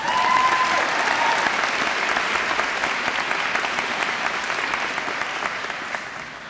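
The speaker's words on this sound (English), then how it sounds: "let's take the moment to give ourselves a round of applause for making it to senior year" A graduating senior class at a college convocation applauds itself, a loud, dense wash of clapping that holds steady and then gradually tapers.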